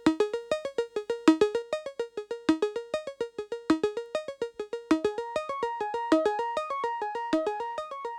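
A vintage analog synth runs through a ring modulator acting as a punchy VCA, producing a fast sequence of sharp, bright plucked notes in a steady pulsing rhythm, close and alone.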